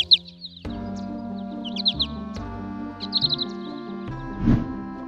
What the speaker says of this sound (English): European goldfinch. Small, colorful birds with beautiful songs.